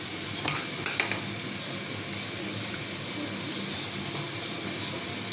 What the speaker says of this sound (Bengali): গোস্তের মধ্যে আমি রসুন দিয়ে মেখে নিচ্ছি